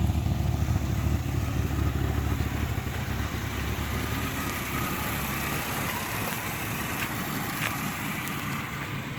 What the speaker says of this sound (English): I do detect a slight miss in the engine.